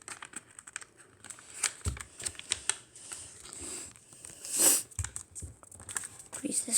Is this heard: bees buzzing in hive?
no